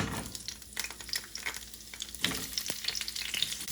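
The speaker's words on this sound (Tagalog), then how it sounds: "Dito po sa pinagprituhan, magigisa po ako." Onion sautéing in leftover frying oil in a pan for pork adobong tuyo, a steady close sizzle with scattered crackles and stirring scrapes throughout, no voices.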